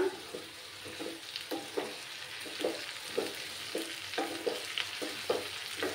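Slit green chilies go into a hot pan for a radish and lentil-dumpling (vadi) jhal, setting off a steady oil sizzle with rhythmic stirring clacks throughout, close and moderately loud.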